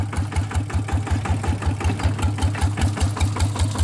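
A Siam-frame walking tractor with a faulty clutch that will not stop the machine, its engine running steadily in gear, a loud close mechanical chugging with an even, rapid knocking beat throughout and no talk.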